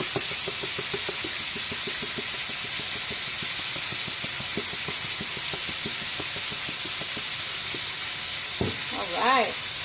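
A steak sears in a pan after a seasoning of Himalayan salt and pepper, giving a steady, close hiss of frying with faint crackles, alone and without talk, and a short clink near the end.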